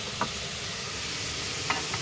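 Apples being stirred with rum-flavoured juice for an apple strudel filling, a soft steady wet mixing noise with a couple of brief scraping knocks, fairly quiet and alone.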